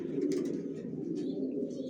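Racer pigeons in a loft coo steadily, a continuous low throaty rumble close by, with faint higher chirps and rustles over it.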